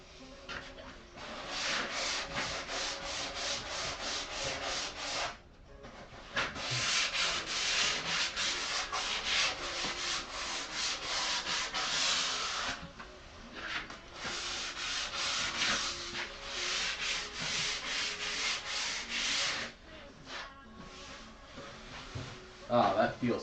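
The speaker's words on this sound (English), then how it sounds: "And then I'm going to take some finer sandpaper to it." A piece of cedar wood is rubbed with finer sandpaper in long rasping strokes that come in several bursts with short pauses between them, close and fairly quiet.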